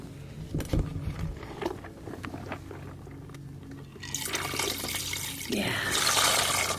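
Water poured into a potion bowl in an ASMR spell setting: scattered soft drips and clinks, then a louder, close, sustained splashing pour toward the end.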